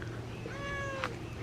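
A domestic cat meows indoors in the morning, a single faint drawn-out meow with a falling pitch over a low background hum.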